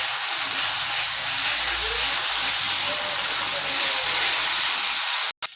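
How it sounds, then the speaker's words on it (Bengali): A steady sizzling hiss of ginger, garlic and green chilli paste sautéing in a pan for chicken and chickpea curry continues throughout, cut off abruptly at the end, with no talk. "যতক্ষণ না আদা রসুনের কাঁচা গন্ধ চলে যাচ্ছে ততক্ষণ এটাকে কষিয়ে নেব।"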